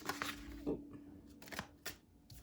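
Tarot cards are shuffled in a few quick, close riffling bursts, soft and papery, separated by short pauses.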